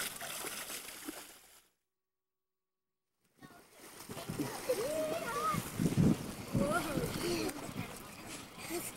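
Children splash and play in a pool on a beach and pool day, the water noise busy and close under excited kids' voices, with a brief silent gap before the splashing picks up.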